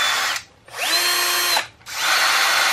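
A Bosch GSR 10.8 V-EC brushless cordless screwdriver runs in three short bursts with brief pauses between them. Each burst is a smooth, close, steady whine.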